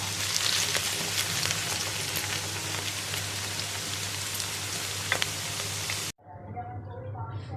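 Pieces of arbi (taro root) fry in hot oil, giving a steady, loud sizzling crackle, with a low hum beneath, before the sound cuts abruptly to a quieter, thinner sizzle near the end.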